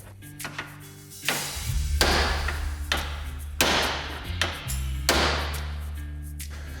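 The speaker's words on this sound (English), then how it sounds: "take two hammers and smack it right here" Two hammers strike the steering knuckle of a Kawasaki ATV's A-arm to knock a ball joint taper loose, five or six sharp metallic clangs spaced about a second apart, each ringing briefly, close and loud with no talking.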